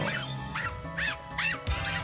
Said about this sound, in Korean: 귀가 먹먹해질 정도로 상디를 향해 끊임없이 짖어대던 오디.